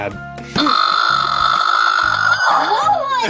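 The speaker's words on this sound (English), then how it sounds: "Every time I sit it down, it sounds like the burp" A Rampage stretch toy gives a long, loud, gurgling burp-like croak when set down, lasting nearly three seconds with a wavering pitch at the end, heard up close.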